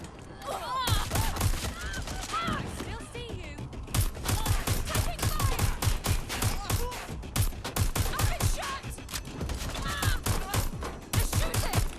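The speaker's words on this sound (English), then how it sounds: "this pistol's not working very well. I would usually think the P9 is pretty effective at that distance" Repeated P9 pistol gunfire in Watch Dogs Legion sounds as rapid bursts of sharp shots in several clusters, loud and close, with other game noise and chatter between volleys.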